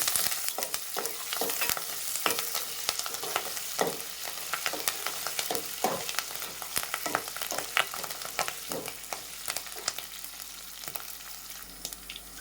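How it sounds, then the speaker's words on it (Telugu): Curry leaves stirred and frying in a hot pan for Andhra-style upma, a steady close sizzle with repeated scraping clicks of the spoon throughout, no voices. "మంచిగా తిప్పేస్తాం."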